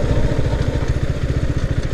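KTM Duke 390 single-cylinder motorcycle engine running close up in a steady, loud rhythmic thrum with fast pulsing firing beats and light mechanical clatter, no voices.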